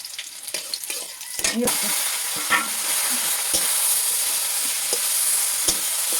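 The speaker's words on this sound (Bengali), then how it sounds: "এই যে আমি দিলাম শুকনো লঙ্কা, এই দিলাম রসুন থেতো করা, আর একটু দিয়ে দিলাম পাঁচফোড়ন" Dried chillies, crushed garlic and five-spice hit hot oil, jumping to a loud, steady sizzle after a few clinks and stirs, with scattered spatula taps continuing over the fry.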